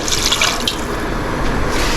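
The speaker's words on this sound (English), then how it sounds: "We'll add some water in this one." Water poured into a cooking pot for a Bengali muri ghonto dish of rice and potatoes, a steady close splashing and gurgling stream with no talk.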